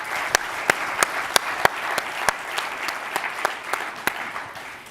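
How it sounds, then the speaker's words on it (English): An audience applauds, a dense steady clatter of many hands clapping with a few sharp louder claps standing out, sustained for several seconds. "let's give a round of applause for our community awards."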